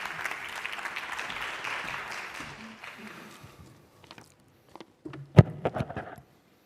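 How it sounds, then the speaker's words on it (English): Sustained applause from a sports congress audience, steady clapping that fades out, followed by a few scattered thumps and handling noises. "Applause again."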